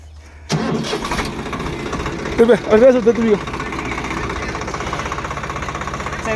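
A vehicle engine cranks and catches after a quiet start, then runs with a few louder revving bursts before settling into a steady idle, with people talking over it.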